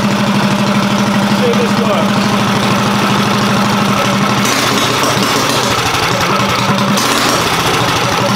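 A small engine, just refitted with its fuel tank, idles steadily with a continuous low chugging throb, loud and close, while someone talks over it.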